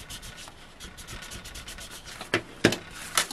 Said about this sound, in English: and just give that good burnish down